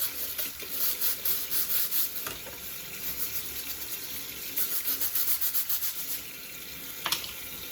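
Rhythmic scrubbing of a Ninja Foodi grill with a sponge, repeated rubbing strokes in bursts over running warm water, with no talking.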